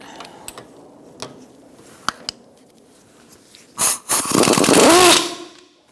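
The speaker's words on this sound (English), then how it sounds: "using a 14mm socket, we're going to take off the nut off this pinch bolt for the" An impact wrench with a 14mm socket spins the pinch bolt nut off a ball joint on a 2004-2009 Mazda 3, loud and close, a few sharp clicks and then a long buzzing rattle that winds down.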